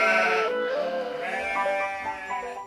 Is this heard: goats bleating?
yes